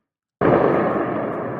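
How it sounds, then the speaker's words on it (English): A sudden loud boom from air defense fire over eastern Tehran, bursting in at once and rolling on as a sustained, dense rumble without pause. "explosions being heard in eastern Tehran as a result of the air defense system operating"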